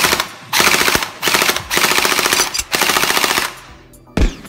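An RX AKS 47 gel blaster fires in rapid automatic bursts, loud and close, several rattling strings of shots separated by short pauses, with a final single shot.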